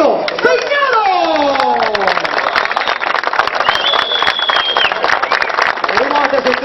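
Applause at a motor racing championship award ceremony in the pits, clapping mixed with crowd noise and running engines, a busy continuous outdoor din with a whistle-like tone sliding through it.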